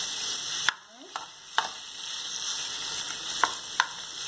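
Seasoned minced beef, mixed with onion powder, garlic powder, all-purpose seasoning and black pepper, sizzles and fries in a pan for a Jamaican beef patty filling, a steady crackle broken by sharp clicks of stirring.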